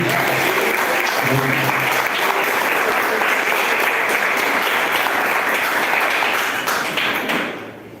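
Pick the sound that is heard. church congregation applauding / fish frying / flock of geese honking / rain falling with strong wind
church congregation applauding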